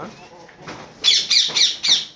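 A caged myna gives a run of four sharp, bright squawking calls in quick succession, close and fairly loud, following some faint indistinct voice at the start.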